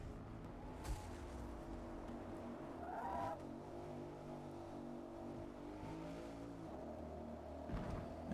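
A super sedan's engine in Forza Motorsport 8 hums and revs steadily on the Hakone Grand Prix Circuit in the rain, with occasional brief tire squeals, close and continuous without any talking.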